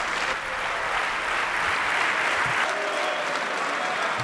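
Parliamentarians giving the first woman to head the IMF a long ovation, dense sustained applause from a large room that carries steadily from start to finish.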